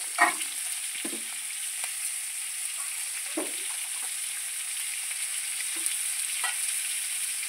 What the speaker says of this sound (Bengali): একদিকে হচ্ছে মাছ ভাজা, একদিকে হচ্ছে শাপলা ভাজা।